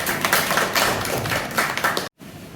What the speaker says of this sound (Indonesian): tepuk tangan untuk Nur Latifah